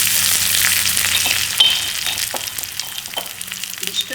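Asafoetida, four dried red chillies and curry leaves crackle and sizzle in hot oil for a home-style tempering, a steady bright frying hiss with small pops and a few stirring clinks, with no voices.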